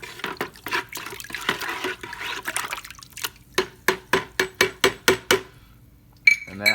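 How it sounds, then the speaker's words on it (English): Cleaner poured into water and stirred in a container to clean an air filter: an uneven watery slosh and pour, then a run of about eight evenly spaced splashy strokes, followed by a short rattle. "Just gonna pour in, stir around a little bit, make sure it's dissolved."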